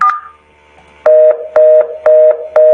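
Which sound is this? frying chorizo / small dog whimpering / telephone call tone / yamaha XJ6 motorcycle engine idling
telephone call tone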